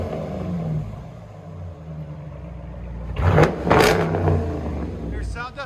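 A Dodge Durango RT's HEMI V8 idles with a low rumble, then bursts into two loud, sharp revs near the end, with voices speaking briefly afterward.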